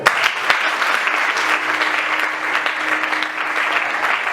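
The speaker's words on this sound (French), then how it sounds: "Est-ce qu'on peut acclamer pour elle?" A church congregation at a prophetic Sunday service applauds steadily, a dense wash of clapping with a few cheers that fills the room at full volume throughout, without any speech over it.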